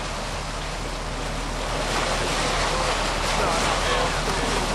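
Water gushes from an opened trout hatchery tank valve, carrying fish with it. The rush is a dense, steady roar that swells slightly partway through, loud and close, with voices faintly beneath.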